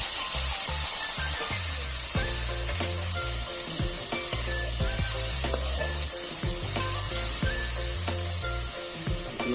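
Grated onions fry in mustard oil with a steady, loud sizzle that holds for the whole stretch, while low knocks and scraping rise and fall beneath it.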